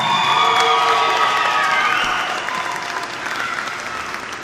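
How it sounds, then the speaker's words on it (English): Crowd applause and cheering erupt at a youth swim meet, loud and dense at first with children's shouts mixed in, then easing into steadier clapping as the noise fades slightly. "One more round of applause for our event 18 boys 10 under 100-yard butterfly finalist."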